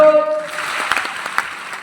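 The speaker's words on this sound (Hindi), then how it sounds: "आप एक बार ताली बजाएंगे" After a man's brief call, an audience answers with a short, scattered round of clapping that fades within about a second and a half.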